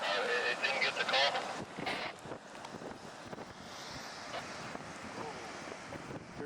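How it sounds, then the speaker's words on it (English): Gusty wind from a severe storm in Battle Creek buffets the microphone outdoors, with a louder rushing burst early on that settles into a steady roar; people speak briefly near the start. "Here comes the wind."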